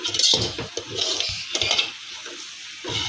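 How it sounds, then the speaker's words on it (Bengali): Stirring rice and Malabar spinach greens in a pan, with repeated scraping and clinking strokes of a utensil against metal over a light sizzle, close and fairly loud. "এটা এবার আমি নাড়াচাড়া করলাম"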